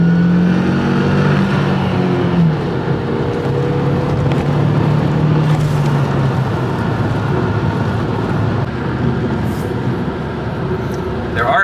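Volkswagen car driving on a rural road, a loud continuous engine drone with rising revs as it accelerates, heard from inside the car with road noise throughout.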